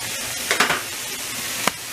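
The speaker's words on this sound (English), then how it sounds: "you're just gonna keep sauteing this mixture up" A garlic and salt mixture sautés in a pan with a dense, continuous sizzle, joined by quick scraping stirs near the middle and a sharp tap toward the end.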